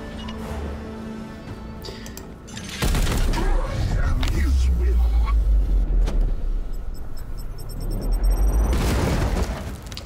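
A grenade blast in the tactical game Chaos Gate: Daemonhunters, a loud deep boom that breaks out after a few seconds and rumbles on, with a second burst near the end.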